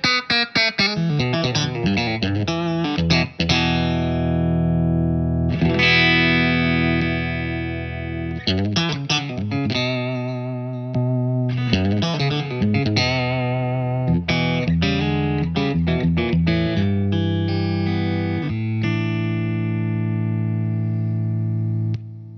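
Electric guitar through a compressor pedal set to a fast attack, playing a steady, even-level run of sustained chords and riffs with a smooth, squeezed tone, close and continuous with no talking.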